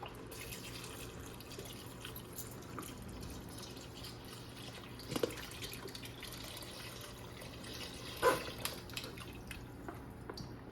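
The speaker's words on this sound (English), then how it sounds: "Let's just add in, we're going to start with the rest of this box of broth" Chicken broth poured from a carton into a soup pot, a steady watery trickle with a couple of sharper splashes partway through, close and moderately quiet.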